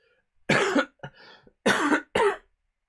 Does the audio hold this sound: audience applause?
no